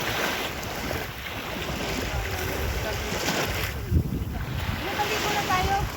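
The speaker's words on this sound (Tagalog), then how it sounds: "Ang sarap pakinggan ng hampas ng alon guys sa Dalampasigan." Waves break and wash along a beach shore, a continuous roaring surf with wind buffeting the microphone throughout.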